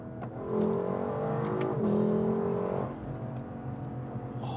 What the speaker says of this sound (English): I was just so exhilarated by the engine.